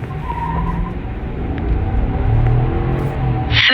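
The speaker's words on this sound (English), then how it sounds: "This is a V8 engine, naturally aspirated, 355 horsepower, 383 pound-feet of torque. Let's see how it accelerates." A 2025 Chevy Silverado with a naturally aspirated 5.3L V8 accelerates hard, its engine rumble climbing steadily in pitch and loudness from inside the cab, with no talking.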